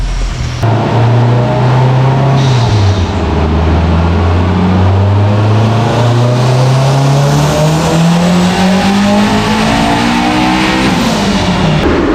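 A car engine revs hard and steadily after fitting new spark plugs and adjusting the tune, its pitch climbing and dipping in long sweeps. Loud, close and continuous, with no voices.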